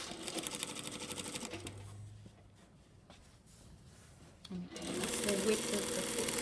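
A sewing machine stitches a welt line along a shirt's centre front edge, a close, fast mechanical whirr that stops for a few seconds of quiet handling noise, then starts again strongly.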